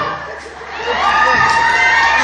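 A comedy show audience in Pokhara, Nepal, roaring with loud, dense cheering and shouting that swells and holds steady, close and crowded, with clapping lost in the wash of voices.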